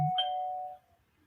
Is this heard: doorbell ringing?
yes